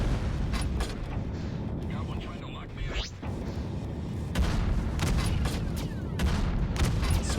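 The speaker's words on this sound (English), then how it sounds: "Switch off the autocannon" Autocannon fire in the space combat game Freelancer, rapid repeated sharp bursts crackling over a steady rumble, with speech faintly present in the background.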